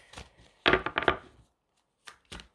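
Playing cards slap down onto a table in quick taps as they are dealt into three piles, a cluster of close, crisp snaps followed by a pause and a few more.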